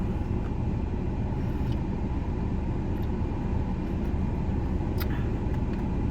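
A car interior while driving fills with a steady low rumble of road and engine noise, constant and close, with faint small clicks and no talking.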